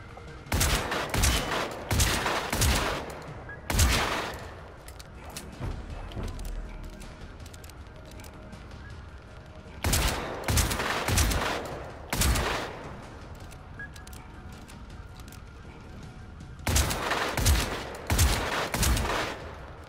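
Gunfire in the Generation Zero video game comes as clustered volleys of sharp, loud shots separated by quieter stretches, with three or four distinct bursts spread across the passage.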